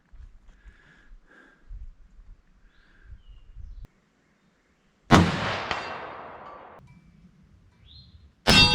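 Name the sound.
Remington 03 A3 30-06 rifle shot at target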